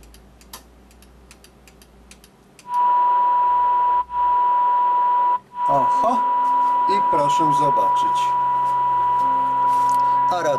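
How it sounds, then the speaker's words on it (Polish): A steady electronic tone and hiss from a CB radio with its squelch switched off, broken by brief dropouts, then crackling static and chirps over it; a voice speaks faintly. "W tym radiotelefonie już blokada, blokada szumów się wyłączyła"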